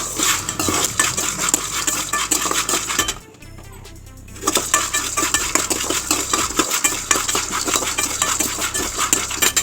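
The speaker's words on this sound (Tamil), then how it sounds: "இன்னும் கொஞ்சம் நேரம் வறுத்து எடுத்துக்கலாம்" Turkey berries are dry roasted in a pan for sambar, with continuous close scraping and rattling of a utensil stirring against the metal, a brief near-silent pause in the middle before the stirring resumes.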